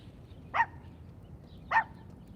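Dog in a park giving two sharp barks about a second apart, moderately near, over a quiet outdoor background.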